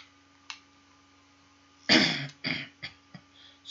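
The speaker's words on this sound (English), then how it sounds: "Excuse me for coughing again." A man coughs near the microphone, one harsh burst followed by a few shorter coughs and throat-clearing sounds, with a quiet steady hum underneath.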